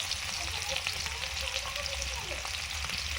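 Dried chillies, whole cumin and chopped onion fry in mustard oil in a pan, giving a steady close crackling sizzle with faint stirring scrapes throughout.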